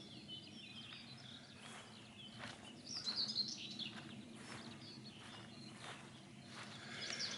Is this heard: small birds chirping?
yes